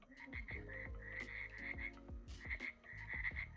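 AI-generated frog sounds: frogs croak in a steady, busy chorus, with repeated short croaks and a continuous trilling pulse close by.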